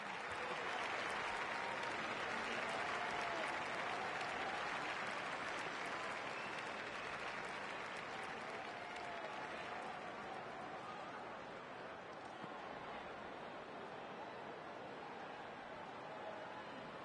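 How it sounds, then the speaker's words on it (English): Cricket crowd applause in the Don Bradman Cricket video game is a loud, continuous wash of clapping. It holds steady for the whole stretch and eases off slightly toward the end. "The crowd applaud."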